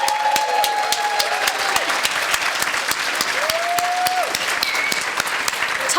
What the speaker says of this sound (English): Can we please give a round of applause to Michelle Fedeli?